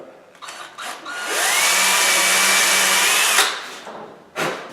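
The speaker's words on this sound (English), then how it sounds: "so we don't split the wood, we're going to pre-drill it" A power drill whines steadily for about two seconds while pre-drilling a screw hole in wood, bracketed by brief clicks and bumps of handling, loud and close.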